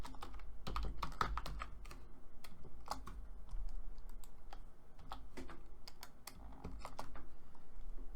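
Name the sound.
typing Python code on a computer keyboard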